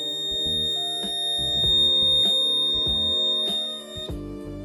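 An Esmi ESCO fire alarm panel sounds its buzzer during a lamp test, a steady high electronic tone holding throughout over shifting musical-like background tones, with no voices.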